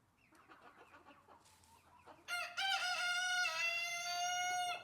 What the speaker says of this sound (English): I love the sound of roosters.